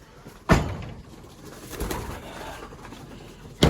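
Pigeons in a coop give soft cooing calls, with a couple of sharp bursts of wing flapping or scuffling nearby against a quiet background.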